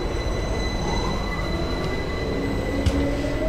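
A train in a tactical survival horror game pulls away, a steady loud rumble of wheels and rail noise with a rising hum and faint squeal, one sharp clank near the end.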